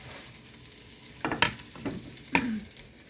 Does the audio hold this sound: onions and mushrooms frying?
yes